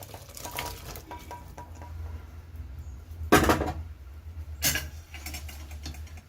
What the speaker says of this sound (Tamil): நம்ம இப்போ தனியாக வேக வச்ச காயை அதில் சேர்த்துடலாம்.